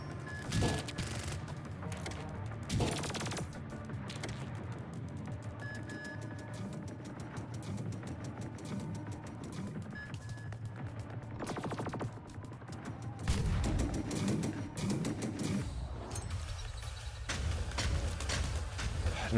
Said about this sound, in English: the snipers are doing work